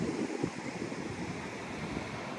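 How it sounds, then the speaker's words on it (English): Ocean surf at Anastasia State Park, Florida, washes in from a distance as a faint, steady hiss mixed with wind buffeting the microphone, with no voices. "There's the ocean from a distance."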